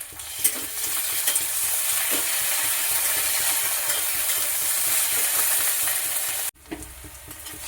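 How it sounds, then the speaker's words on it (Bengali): Onion and garlic paste frying in a pan while being stirred, a loud steady sizzle with scraping spoon strokes, close by, cutting briefly near the end before resuming. "রসুন আর পেঁয়াজটাকে ভালো করে ভাজতে থাকবে।"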